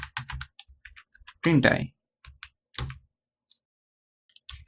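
A computer keyboard clatters with quick, close keystrokes in short bursts, sharing the moment with a voice that speaks.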